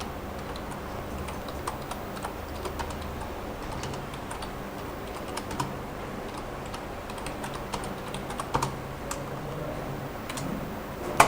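Steady keyboard typing while text is entered in CorelDraw for a notebook cover design, a run of quiet, irregular key clicks close by with a faint tick-like patter and no voices.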